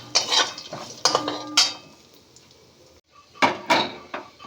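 Raisins already fried golden are stirred in a pan with turmeric and Kashmiri chili powder for masala chire, giving sharp metallic clinks and scrapes of a spoon against the pan in short bursts with quiet gaps between them.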